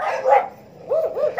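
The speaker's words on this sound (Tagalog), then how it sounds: "Daming aso." A few sharp, close dog barks and yips come in a brief burst from a group of dogs met while out jogging.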